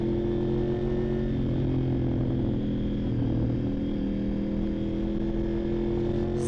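Honda VFR 750 motorcycle engine idling steadily nearby, a loud continuous low drone with a smooth, even rumble for the whole stretch and no voices.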